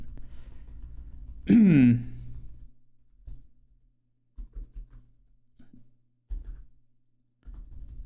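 Typing on a computer keyboard comes through as soft, irregular bursts of close key clicks. A brief vocal sound breaks in near the start.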